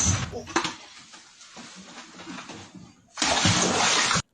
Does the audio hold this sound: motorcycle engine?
no